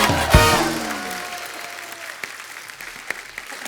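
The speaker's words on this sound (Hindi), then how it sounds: "माधुरी दीक्षित जी के लिए एक बार जोरदार तालियां हो जाए" Loud audience applause on a comedy talk show set, with a sharp burst and sustained clapping that gradually thins out, plus a few scattered claps near the end.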